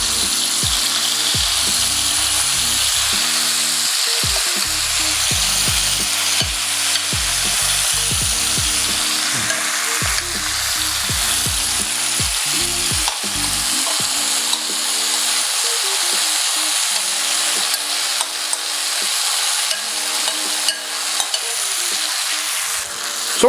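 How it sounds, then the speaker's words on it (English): Curry paste fries in a very hot Radiance wok with vegetable oil, a loud steady sizzle running throughout, broken by repeated scraping and stirring strokes of a utensil against the metal. "And we are going to pop in all of the paste in there."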